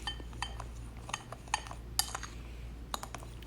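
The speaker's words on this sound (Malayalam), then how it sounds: "ഇതുപോലെ അങ്ങ് മിക്സ് ചെയ്ത് കൊടുക്കാം" A spoon mixes roasted semolina, gram flour and salt in a bowl for a pomfret fry coating, making quiet scattered clinks and taps against the dish at an uneven pace, faint and without voices.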